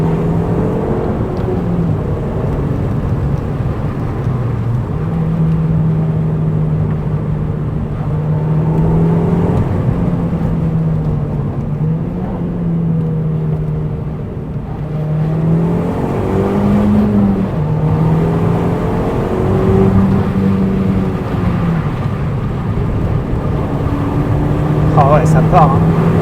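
A 2005 Audi TT Quattro Sport tuned to 240 hp drives under load, its engine holding a steady drone that rises and falls with revs, loud and close inside the cabin throughout.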